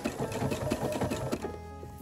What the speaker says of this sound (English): Stitch down the second side